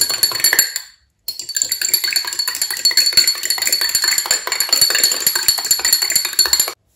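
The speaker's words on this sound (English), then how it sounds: "You have to stir it very, very well." Conductive paint mixture stirred in a container, a dense run of rapid clinking and scraping taps with a brief pause near the start, close and fairly loud, with no talking.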